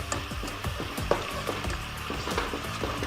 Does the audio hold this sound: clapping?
no